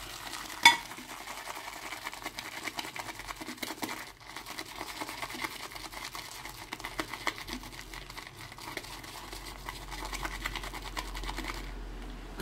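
Badger-hair shaving brush whipping shaving cream into lather in a bowl with light, non-circular strokes, a steady close wet swishing and crackling that runs throughout with no voices.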